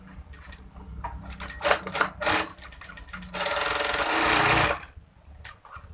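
Sewing machine with a loose, floating presser foot, stitching in short bursts: rapid mechanical clatter starting and stopping, then a longer sustained run before it winds down, close and fairly loud.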